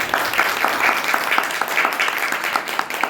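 A church congregation in Bathinda claps steadily in an even, rhythmic beat during worship, the many hands filling the room loudly with no pause.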